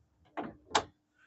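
A door being closed indoors in a home, heard as two short, close knocks or thuds in quick succession, followed by a faint mechanical rattle.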